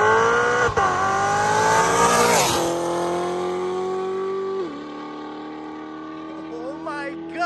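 A procharged 750-horsepower C7 Corvette V8 revs hard up close, its loud engine note climbing and falling through several sustained pulls, while a person talks over it.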